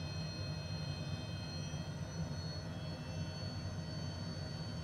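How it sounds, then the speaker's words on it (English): HondaJet business jet in Microsoft Flight Simulator 2020: a steady, droning jet engine whine with a high tonal hum over a rumbling low end, continuous and even throughout. "I love the sounds of this HondaJet."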